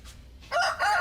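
A rooster crows once in a short, bright call that starts after a quiet moment, loud and close with no talking.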